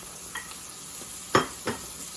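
Shredded onion stirred into a hot pan with already cooked meat, a steady sizzle broken by a few scraping stir strokes and one louder clatter, close and without talking.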